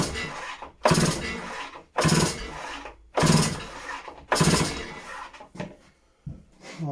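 A Stihl petrol disc cutter is pull-started again and again: four or five loud rasping cord pulls, each a second or so long, separated by short silences, with no ignition.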